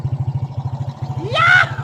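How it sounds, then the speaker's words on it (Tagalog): A Suzuki Smash 115 motorcycle idles with its fuse pulled, a rapid even engine putter close by, while a voice speaks briefly over it toward the end. "Umaandar pa rin ang kanyang motor, guys."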